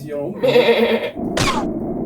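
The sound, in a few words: sheep bleating in Ratchet & Clank 3 video game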